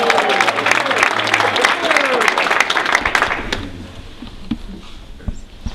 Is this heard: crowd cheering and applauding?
yes